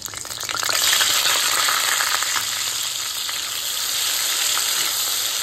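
Onion paste sizzles loudly after going into hot spiced oil for chana masala, a strong continuous frying hiss with faint stirring, steady from start to finish without any voices.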